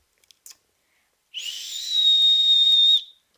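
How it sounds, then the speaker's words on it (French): A few faint clicks, then a single loud, shrill whistle blown steadily for about a second and a half before cutting off. "Voilà, un bon sifflet."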